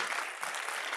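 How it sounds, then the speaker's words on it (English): A conference audience applauds a speaker taking the stage for the opening talk of a technical track, a brief burst of dense, steady clapping. "please give a round of applause to Cynthia Thomas"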